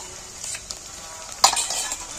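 Ginger garlic paste is stirred into chicken skin frying in a pan: a soft, steady sizzle with faint scraping of the spoon and one sharper clink midway, fairly quiet throughout.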